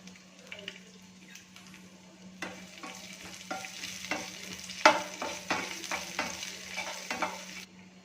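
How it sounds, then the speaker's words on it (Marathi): Dried red chillies, cumin and crushed garlic fry in hot oil as the base for potato and fenugreek: soft crackling sizzle under a steady hum, with repeated spoon stirs and one sharp clink, up close. "आता आपण याच्यामध्ये लाल सुखी मिरची घालणार आहोत जिरे एक चमचा ठेचलेल्या लसूण पाकळी चार पाच"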